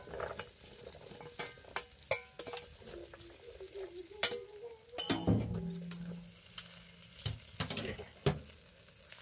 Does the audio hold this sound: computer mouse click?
no